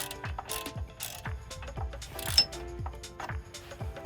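A ratchet wrench clicks steadily while tightening bolts and nuts on a Jeep Wrangler TJ steering kit, giving close, rhythmic pawl ticks in repeated strokes.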